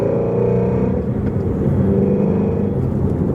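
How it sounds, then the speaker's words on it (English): A Shelby GT350 engine rumbles loud and close from inside the car as the throttle is blipped for a downshift into third, a dense steady growl that swells slightly midway. "I'm going to go ahead and blip the throttle into third"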